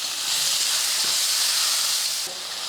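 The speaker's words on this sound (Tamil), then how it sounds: "இப்போ மறுபடியும் அதே கடாயில் ஒரு பத்து இருபது போல் சின்ன வெங்காயமும் ரெண்டு பல் பூண்டும் சேர்த்துக்கிறேன்" Shallots and two garlic cloves sizzle in a hot kadai with a loud, steady, unbroken hiss and no voices.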